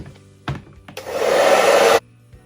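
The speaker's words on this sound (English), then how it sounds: "if you don't have a blow dryer with a comb attachment" A hair dryer switches on with a steady, loud whooshing blast for about a second, then cuts off, with a couple of soft clicks around it.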